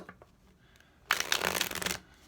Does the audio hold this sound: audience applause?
no